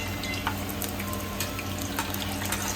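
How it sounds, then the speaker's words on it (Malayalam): Cashews and raisins frying in hot sunflower oil for a biryani garnish, a steady close sizzle with scattered small pops and crackles and no voices. "സൺഫ്ലവർ ഓയിൽ ചൂടാക്കിയിട്ട് അതിലേക്ക് അണ്ടിപ്പരിപ്പും കുറച്ച് മുന്തിരിയും കൂടി ഇട്ട് നന്നായിട്ട് വറുത്തെടുക്കുന്നുണ്ട്"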